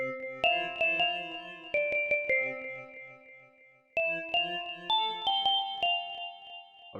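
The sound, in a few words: bell presets of Citrus synth plugin in FL Studio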